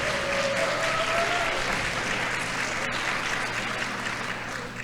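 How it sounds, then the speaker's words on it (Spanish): Audience at a tourism professionals' conference applauds a team, a steady wash of many hands clapping that fades slightly toward the end. "Le damos un aplauso al equipo Me Sirve."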